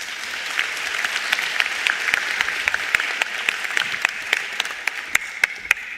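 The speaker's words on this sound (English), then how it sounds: "Another round of applause" Applause from a ceremony audience at the announcement of South Africa's 2024 matric exam results, a steady sustained roar of many hands with a few sharper nearby claps standing out, continuing evenly throughout.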